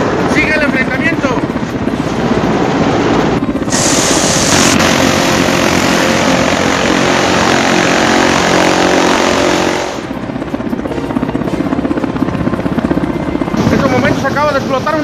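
A helicopter flies overhead during an armed clash with a Navy unit, its loud, steady rotor roar filling the scene almost throughout, with brief quieter gaps near the start and end and some voices faintly underneath.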